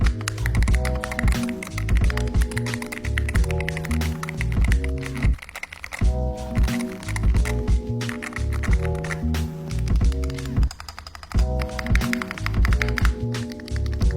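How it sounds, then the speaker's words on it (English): Steady clattery key presses on a MonsGeek M1W V3 HE-SP mechanical keyboard in quick bursts, with two brief pauses, loud and close, over the whole stretch. "Now here's the sound test."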